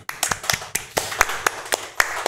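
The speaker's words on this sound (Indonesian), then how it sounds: "Kita beri tepuk tangan." A handful of people at a startup talk show clap sparsely and unevenly, with separate sharp claps rather than a full ovation, lasting about two seconds.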